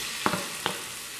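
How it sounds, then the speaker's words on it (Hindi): Tomatoes dropped into lightly heated mustard oil in a kadhai give two brief, faint sizzling bursts in quick succession, then fade into a low, steady background hiss. "ऑयल हल्का सा गर्म हो गया है तो हमने जो टमाटर लिए हैं उनको इसमें डाल देते हैं"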